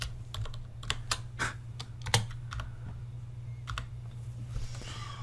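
Quiet, close keystrokes on a computer keyboard tap in uneven bursts, with single clicks and short runs over a low steady hum and no talk.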